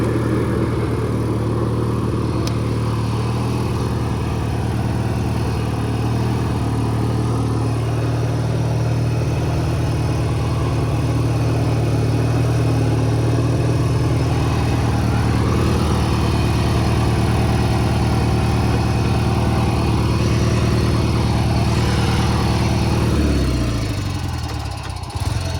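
A $20 riding lawn mower engine runs loudly with its mower deck engaged, a steady droning hum whose pitch shifts slightly midway before it winds down near the end, close and without voices.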